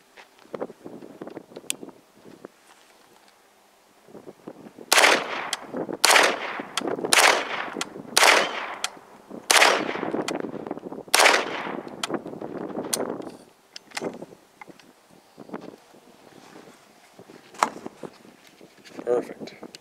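Rapid shots from an ATI Omni Maxx Hybrid AR-410 semi-automatic .410 shotgun fired outdoors, about eight loud sharp reports in a quick string, with wind noise and some talk before and after.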